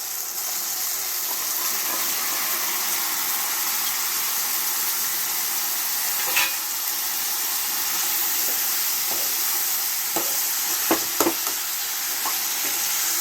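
Salted pumpkin pieces fry in a pan for a pumpkin palya. A steady, close hiss of sizzling continues throughout, with a few sharp pops and stirring taps toward the end.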